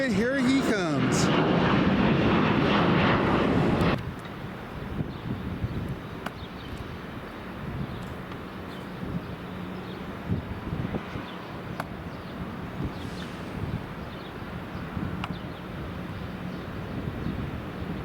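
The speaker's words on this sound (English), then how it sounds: "Look at it, he's rocketing up there. He is rocking, and he pulled that stick back, and he is up, up and away." An airplane takes off at Raleigh-Durham International Airport. A loud, broad roar fills the first few seconds, then drops to a quieter, distant rumble with voices and wind noise.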